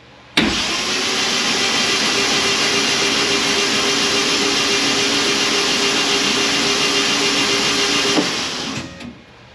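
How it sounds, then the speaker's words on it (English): A car engine cranks steadily on its starter to build oil pressure for an Accusump, one loud continuous whirring drone lasting about eight seconds before cutting off. "I suggest you don't spin more than about 10 seconds at a time so you don't overheat your starter"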